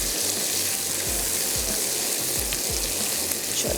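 Masala for mutton balti gosht sizzles and fries in a pan, a dense continuous hiss with no voices over it.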